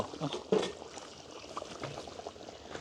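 Soft bubbling of curry simmering in a pot, with gentle irregular pops and a low, steady background.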